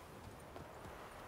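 Horse hooves clip-clop in The Witcher 3: Wild Hunt, a quiet, even rhythm of hoofbeats on the ground with faint background ambience.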